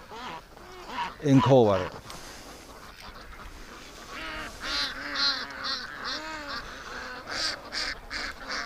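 Ducks quacking and honking on a farm in cold weather, a loud burst of calls early on followed by repeated softer quacks, with a person talking nearby in between.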